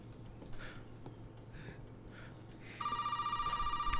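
An old telephone in the Resident Evil 7 video game begins ringing partway through, a rapid, fairly loud electric bell trill that keeps going over a low, murky ambient drone.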